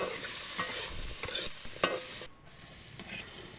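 Potato pieces with turmeric fry in a pan with a steady hissing sizzle, broken by several scraping stirs of a spatula, then settle to a quieter simmer.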